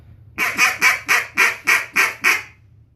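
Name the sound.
duck call reed blown, imitating ducks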